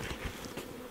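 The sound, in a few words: honeybees buzzing while a beehive is handled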